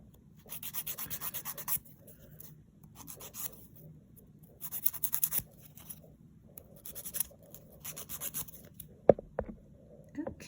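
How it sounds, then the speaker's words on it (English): A nail file is buffed across a dip powder nail in several bursts of brisk, close rubbing strokes, separated by short quiet pauses, with no talking. "what I do is just kind of take this file, and we're gonna buff"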